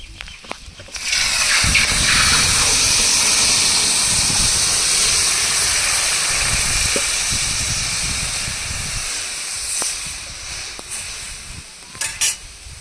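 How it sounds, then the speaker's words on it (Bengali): Water left from boiling taro is poured into a hot pan of oil holding fried fish, bursting into a loud, sustained hiss of steam and sizzle that gradually eases, with brief scraping clatter near the end. "কচু সিদ্ধ করে রেখেছিলাম, সেই জলটুকু দিয়ে দেব।"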